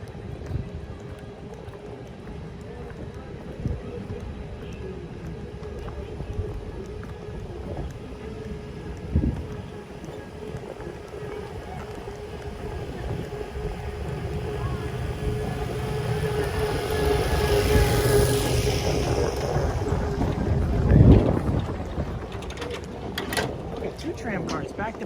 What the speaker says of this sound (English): And we got the tram car coming.